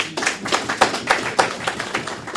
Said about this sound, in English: can you please clap for the hospital?